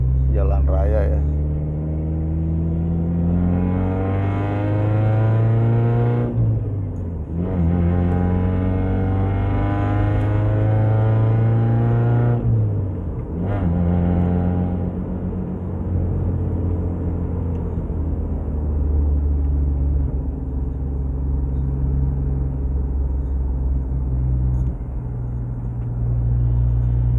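A Suzuki Grand Escudo 1.6 drives on a highway near the airport, its engine droning steadily with gear shifts causing brief dips in pitch, and a voice talks over the cabin rumble.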